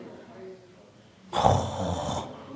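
During a dawn sermon, a voice imitates loud snoring, one long rasping snore starting after a quiet moment and holding steady for about a second.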